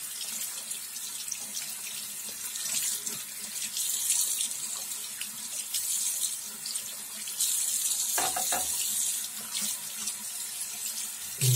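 Running tap water rinsing a proof 20-hryvnia Ukrainian coin, a steady close hiss of water streaming into a sink for the whole stretch, with a brief splashing change partway through.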